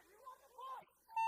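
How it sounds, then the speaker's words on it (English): A game-end buzzer at a paintball match sounds briefly and loudly at the close, following a stretch of a voice over a quiet background. "Hit the buzzer, sir."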